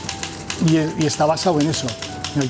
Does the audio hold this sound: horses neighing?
no